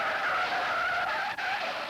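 A car on ordinary tires skids across wet, slick pavement, giving a continuous loud tire squeal and hiss that holds for about two seconds with a brief dip near the end, with no voices.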